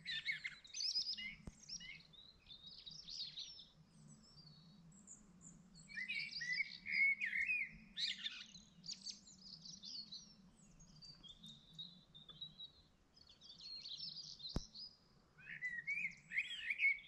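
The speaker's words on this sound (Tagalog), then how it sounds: "Bukod pa sa iba, meron pang ibang ibon din ng mga maliliit." Small birds chirp in quiet outdoor surroundings, with bursts of high twittering separated by pauses and a faint low hum underneath.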